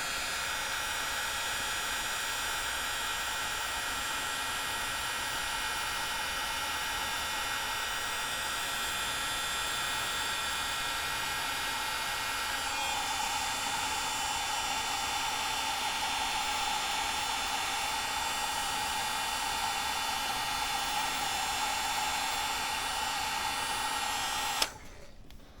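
A heat gun shrinks heat-shrink tubing onto wires during a washer reservoir relocation on a Toyota 4Runner, blowing as a steady loud airy roar that runs without a break and cuts off abruptly near the end.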